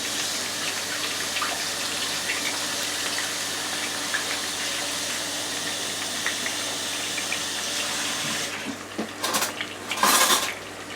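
Hot water streams steadily into a bowl of croutons in a continuous close splashing pour, ending with a few clinks and knocks of the bowl being handled.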